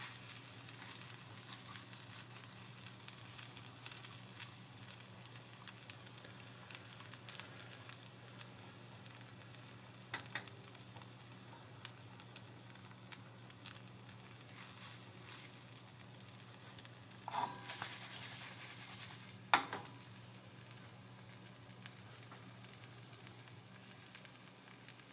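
Omelette frying in a pan gives off a faint, steady sizzle under a constant low hum, with a couple of soft clatters partway through.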